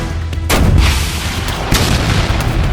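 A video game gun fires at an anomaly with a loud, heavy boom followed by a second blast, both booming and rumbling over a dense, noisy game background, with no voices.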